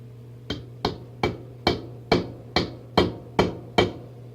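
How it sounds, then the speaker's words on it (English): A light hammer taps bearings into place on a 1/16 scale XION Sd.Kfz 234/2 Puma RC model: nine sharp, evenly spaced taps, close and clear over a low steady hum. "if you need to, take a light hammer"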